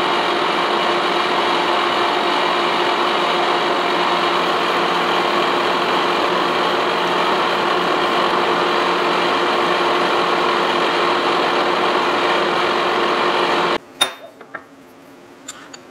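A vertical shaper machining a steel tool holder produces a steady, loud mechanical hum and whine that runs continuously and then cuts off abruptly near the end, followed by a few faint clinks in near silence.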